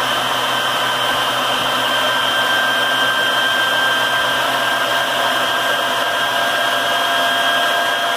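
A high-speed generator driven by a Tesla turbine spins at several thousand RPM, giving a loud, steady, high-pitched whine with a continuous airy rush and no pauses.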